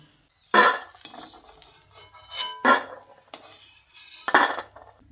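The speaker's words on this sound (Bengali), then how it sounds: "বড়িগুলোকে অনবরত নেড়ে চেড়ে ভেজে বড়িগুলোকে তুলে নিচ্ছি" Lentil dumplings (bori) being stirred in hot oil on a high gas flame, with three sharp metallic clinks of a spatula against the pan and softer scraping between them. The sizzle stays faint under the utensil sounds.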